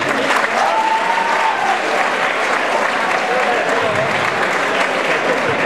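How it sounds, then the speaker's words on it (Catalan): Loud, sustained applause from an audience at a high school graduation diploma ceremony at IES Maria Enriquez, dense clapping filling the whole stretch with a faint cheer or two mixed in. "Un fort aplaudiment també per al secretari Álvaro Solà i sotsecretari"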